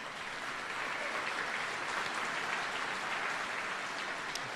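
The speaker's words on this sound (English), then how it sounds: "let's give him another round of applause" A round of steady applause fills a change of command ceremony for Col. Thomas J. Kilbride, a dense, even clapping from a seated audience that holds at a constant moderate level throughout.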